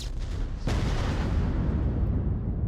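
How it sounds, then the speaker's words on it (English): A frag grenade blows up in a competitive tactical video game match, one loud, close blast that rolls into a long, fading rumble. "Frag grenade comes out."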